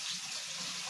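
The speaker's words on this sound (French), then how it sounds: "Je le mouille avec de l'eau chaude." Hot water running from a kitchen tap onto a clean cloth towel being wetted, a steady close hissing rush filling the whole moment with no voices.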